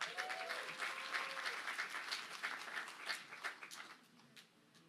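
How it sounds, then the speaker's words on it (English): A crowd at a PechaKucha night in Southwest Louisiana applauds as a speaker comes to the stage, continuous clapping that starts full and slowly thins out toward the end, heard from some distance, with a brief whistle or cheer early on. "Let's give her a round of applause."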